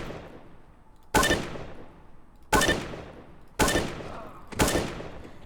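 Four single AK rifle shots in PUBG aim training, evenly spaced about a second apart, each a sharp loud crack followed by a ringing decay, with no voices.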